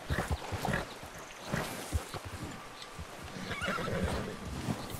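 A horse neighs and whinnies repeatedly over a busy, noisy background, with a few hoof-like clip-clops mixed in, from the video game Red Dead Redemption II.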